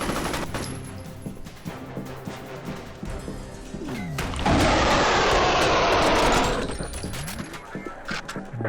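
Rapid automatic gunfire from a F.E.A.R. Perseus Mandate firefight in a cloning facility rattles out in loud bursts, with a dense, sustained volley midway and sharp crashes around it.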